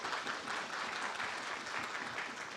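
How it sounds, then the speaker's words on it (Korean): A hall audience applauds to welcome a city council committee member who is stepping up to give judging remarks at a municipal proactive-administration best-practice contest. The clapping is dense and steady and fills the whole moment. "큰 박수로 맞아주시기 바랍니다"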